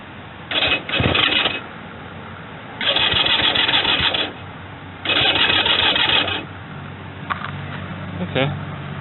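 A 1965 Honda CB160 motorcycle engine is cranked in repeated starting attempts with the choke on, three loud churning bursts of a few seconds each separated by pauses, followed by a few faint clicks.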